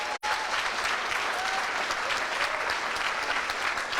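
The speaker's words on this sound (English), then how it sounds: "Let's have another huge round of applause for all the students here" Sustained applause from an audience celebrating students at a coding bootcamp demo day in Montreal, a dense steady wash of clapping that fills the room after a brief dropout at the start, with faint voices or whistles mixed in.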